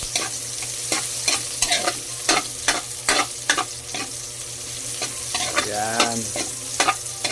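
Spices frying in a wok are stirred with a utensil that scrapes and knocks in an irregular rhythm over a steady sizzle, close up, with a brief spoken word.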